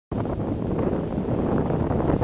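Strong, steady wind roars and buffets the microphone on a cold day at a ranch in the gorge near Corbett, Oregon, a continuous loud rumble with no voices.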